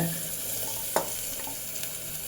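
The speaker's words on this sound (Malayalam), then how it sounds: "ഇനി എല്ലാം ഇതിനെ കിടന്ന് നല്ലപോലെ എണ്ണയിൽ ഇങ്ങനെ നല്ലപോലെ ഫ്രൈ ആവണം" Peas, beans and carrot frying in oil in a pan for vegetable biryani, a steady close sizzle with a single sharp stir clack and faint scraping, no voices.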